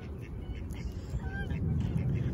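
Ducks in a park give a few short, faint quacks over a low, steady outdoor rumble, with soft voices in the background.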